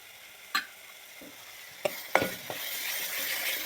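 Khoa (two spoonfuls) is stirred into a pan of kurma masala with turmeric, a soft sizzle underneath and a few sharp spoon scrapes and taps against the pan, the sizzle swelling toward the end.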